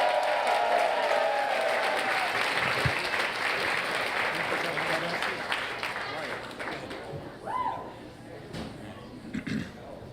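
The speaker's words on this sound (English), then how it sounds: "I want you to make a big, huge ruckus of noise for Eddie right here." A crowd applauds and cheers loudly and continuously at a live Moth storytelling event in Detroit, a dense wash of clapping with whoops, thinning slightly toward the end.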